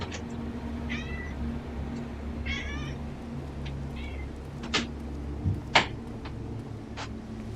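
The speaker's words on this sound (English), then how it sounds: "What you want out, cat?" A cat meows in Final Fantasy XIV Endwalker, several short, close, rising-and-falling calls over a steady low ambient hum, followed by sharp clicks near the end.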